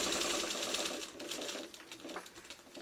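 A sewing machine stitches a quilt block in a rapid, steady whirring run of needle strokes, close and clear, with a slight slowdown and a short burst near the end.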